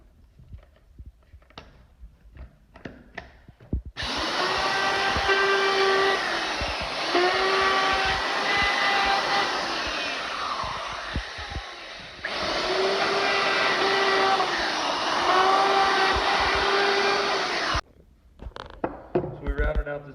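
A power router cuts into the wooden frame of a flag case, whining loudly and steadily in two long passes with a short break between them. Quieter workshop knocks come before and after.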